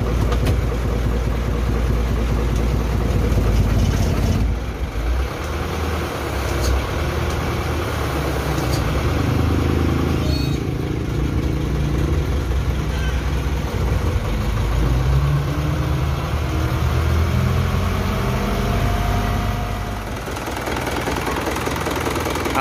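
A 2009 Isuzu Elf NKR71 HD truck engine idles steadily with a low, continuous rumble, close and loud throughout, with no talking.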